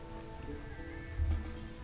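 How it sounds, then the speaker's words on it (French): Rain patters steadily in the colony game RimWorld, a short soft hiss of drops on the ground with a low rumble in the background and no talk. "Alors heureusement, il y a la pluie qui intervient."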